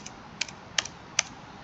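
Enter key on a computer keyboard pressed repeatedly while formatting a document in MS Word: several crisp, close clicks spaced about every third to half second, with no talk.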